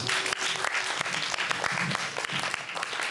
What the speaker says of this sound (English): give a round of applause for you for that